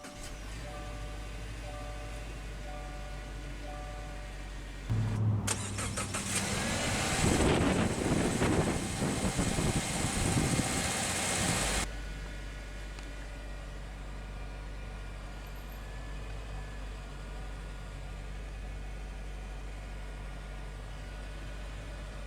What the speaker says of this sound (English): let's go ahead and start the engine. It of course has push button start